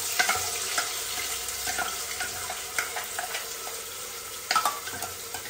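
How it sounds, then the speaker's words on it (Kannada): Ground onion paste dropped into hot oil for a chicken sambar, giving a continuous close frying hiss with scattered spoon clinks and scrapes, no voices. "ಎಣ್ಣೆಗೆ ರುಬ್ಬಿರೋ ಈರುಳ್ಳಿ ಹಾಕೋಬೇಕು."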